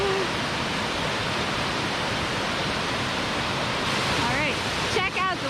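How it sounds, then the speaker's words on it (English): A steady, heavy roar of a waterfall at Los Campesinos, Costa Rica fills the whole clip, broad and constant, with faint high whistling sounds near the end. "check out the waterfall though"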